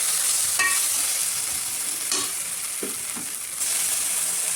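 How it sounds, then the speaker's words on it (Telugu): Ginger garlic paste fries in a pan for a mutton gravy curry, giving a steady close sizzle broken by a few brief scraping stirs. "అల్లం వెల్లుల్లి పేస్ట్ కూడా మంచిగా వేగిన తర్వాత"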